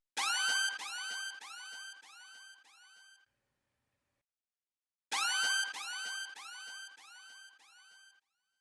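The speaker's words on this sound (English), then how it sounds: "I added a Kill Bill horn" A loud brassy 'Kill Bill' style horn stab sounding in an FL Studio beat, a descending four-step phrase played twice with a silent gap between, heard alone.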